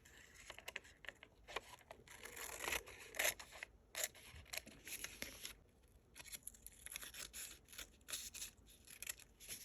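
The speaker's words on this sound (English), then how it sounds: "I'm going to cut away at this bit of extra here." Scissors snipping away excess decoupage rice paper in a papercraft project, a quiet series of irregular close-up cuts and rustles with no talk.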